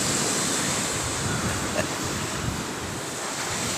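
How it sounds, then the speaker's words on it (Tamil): Ocean waves crash onto a beach in a constant roaring wash of surf, loud and close, with wind buffeting the microphone throughout. "பாருங்க அலை எப்படி அடிக்குது பாருங்க"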